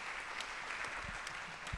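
An audience at a public event with the president in Chilpancingo, Guerrero claps steadily, a dense, fairly distant patter of hands with no talking.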